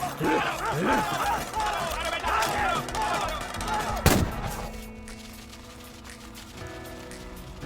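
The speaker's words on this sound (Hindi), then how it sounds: "हवा में क्या गोली चला रहा है?" A dense, noisy action scene with a sharp gunshot crack cutting through, followed by a quieter stretch with a faint low rumble.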